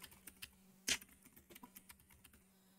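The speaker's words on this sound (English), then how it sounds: "I'll type in whatever I want the header of my exhibit label to be" Keys tapped on a computer keyboard in quick, uneven bursts, one sharper louder stroke early on, fairly close and quiet with no talking.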